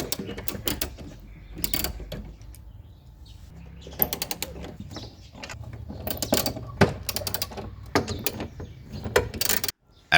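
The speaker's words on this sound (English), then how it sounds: "Now grab a 10mm socket and carefully loosen and remove all the mounting nuts." A 10mm socket ratchet clicks in short irregular bursts while loosening the spoiler mounting nuts on a Kia Sportage liftgate, close and fairly quiet, with small handling clatter between turns.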